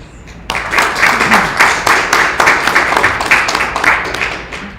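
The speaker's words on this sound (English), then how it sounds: "Let's give a warm round of applause for our panelists." A room of people at a robot learning workshop breaks into warm, steady applause for the panelists right after a quiet start, rapid clapping sustained close and loud until the end.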